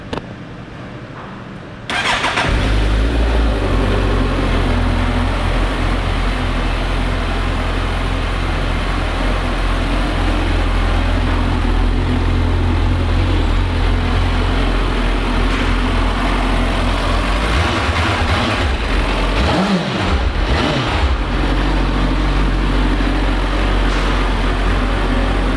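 2009 Suzuki GSX-650F motorcycle starts after a short quiet moment, then idles with a steady, close engine drone and a couple of brief revs or bumps near the end.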